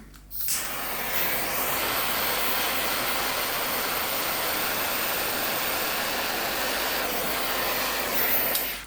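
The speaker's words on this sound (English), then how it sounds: "now I'm just gonna solder it a little bit in place so that it doesn't move" Torch soldering a silver ring bezel, a steady roaring gas flame that lights with a pop, runs evenly for about eight seconds close by, then cuts off, no speech.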